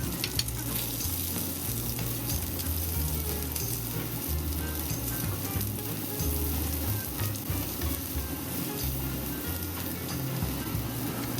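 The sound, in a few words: onions stir-frying in melted butter in a pan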